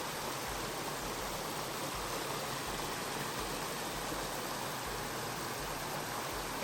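Water flows along a brook on the Appalachian Trail toward New Hampshire, a steady soft rush of even noise that runs without a break and sits in the middle distance.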